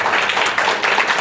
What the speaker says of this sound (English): I'd like to applaud you